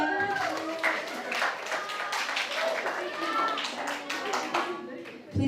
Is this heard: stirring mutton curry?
no